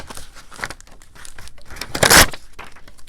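Paper crinkles and tears up close for a nature journal craft page, with rustling handling and a louder ripping burst near the end.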